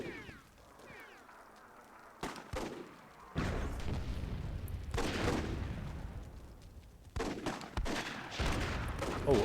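A grenade explodes amid gunfire in the video game Myth II set in a WWII scenario, with booming blasts and rattling bursts of shots arriving in several loud, dense clusters separated by quieter gaps.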